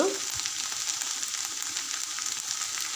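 Ivy gourd pieces fry in oil with a soft, continuous sizzle, fairly quiet and even throughout, with a light stir near the start.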